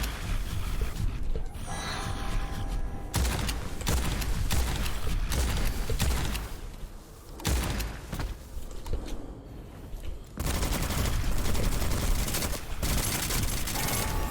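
Enemy gunfire in the video game Witchfire, dense and loud, pouring out in long sustained volleys with a short lull midway.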